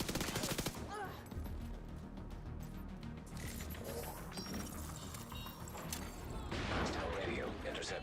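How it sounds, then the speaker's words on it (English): Rapid bursts of video game gunfire and automatic weapon fire crackle throughout, loud and continuous, with a brief voice near the start and scattered mechanical clicks. "I hear gunfire."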